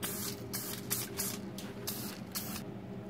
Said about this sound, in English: I'm just gonna spray some clear coat over it